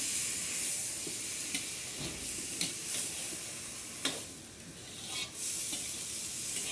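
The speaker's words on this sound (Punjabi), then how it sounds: "ਹੁਣ ਇਹਨਾਂ ਨੂੰ ਪਹਿਲਾਂ ਚੰਗੀ ਤਰ੍ਹਾਂ ਆਪਾਂ ਰਲਾ ਲੈਣਾ" Tomato and onion chutney is stirred in a pan on a stove, a soft continuous sizzle broken by a few sharp scrapes and clicks of the spoon against the pan, fairly quiet with no talking.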